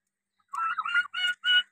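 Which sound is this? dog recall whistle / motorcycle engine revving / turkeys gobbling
turkeys gobbling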